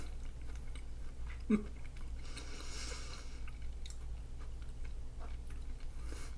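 Someone chews a crispy apricot and rosemary tart with a custard and honey topping: soft, close, wet mouth sounds and small bites, quiet throughout with one sharper crunch early on.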